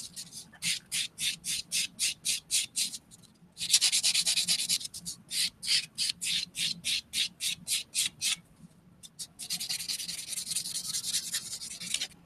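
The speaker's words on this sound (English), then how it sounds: "So I'm using the 100 grit side of my buffer." Rapid rhythmic scratching of a 100 grit buffer filing a polygel nail in circular strokes, close and fairly loud, in bursts separated by short pauses.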